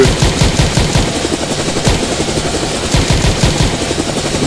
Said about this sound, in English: Sorry, George, just checking the bullets out.